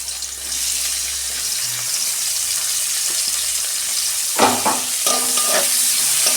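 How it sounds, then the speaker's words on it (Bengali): Sliced onion drops into a little hot oil in a wok, setting off a steady close sizzle with sharp clinks and scrapes of a spatula stirring toward the end; no one speaks. "কড়াই তেল দিয়েছি আমি অল্প, পেঁয়াজটা দিয়ে দিচ্ছি।"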